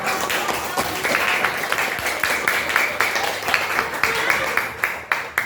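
A class of students in an Indonesian school lesson claps together in a steady, close burst of applause lasting several seconds, with a voice faintly audible under the clapping.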